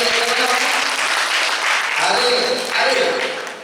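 Loud, dense applause from a school audience fills the whole stretch, rising slightly partway through before tapering at the end, with a few voices mixed in.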